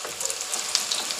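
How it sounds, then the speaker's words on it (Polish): Egg cutlets with melted cheese inside fry in a pan, a close, steady crackling sizzle with scattered pops throughout. "Smażą się na złoto."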